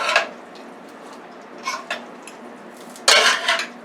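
Food being stirred in a pan with a little olive oil left in the bottom, a few scattered scraping and clinking knocks of utensil against metal, fairly close, with quiet gaps between.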